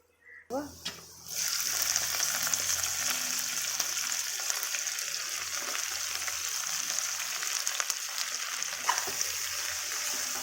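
Egg frying in a pan, a steady broadband sizzle that starts after a brief pause and holds loud and close, with faint stirring sounds in the sizzle throughout.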